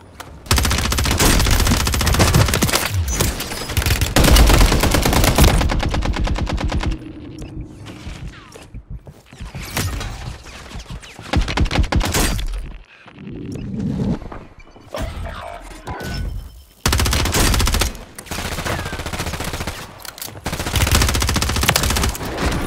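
Rapid automatic gunfire from meta-loadout weapons in the Warzone 3 video game, with long dense bursts of machine-gun fire and single shots, loud and close, broken by short pauses and quieter stretches of in-game sound.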